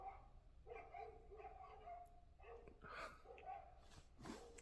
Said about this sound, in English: It's dogs fighting outside.